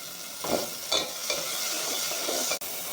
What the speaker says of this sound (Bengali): পেঁয়াজটা আমি বাদামি করে ভেজে নিলাম।